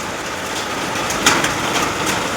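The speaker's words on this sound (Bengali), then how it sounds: "দিনের চালের উপরে বড় বড় শিল পড়ছে।" Large hailstones pelt a roof during a hailstorm, making a dense, steady clattering hiss that runs unbroken throughout, with one sharper impact standing out briefly partway through.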